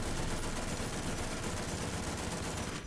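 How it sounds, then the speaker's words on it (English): Heavy machine gun mounted on top of a tank in War Thunder, firing a dense, continuous burst of rapid booming shots, loud and close, filling the whole stretch without any voice over it. "there we demonstrate the heavy machine gun on top of this tank"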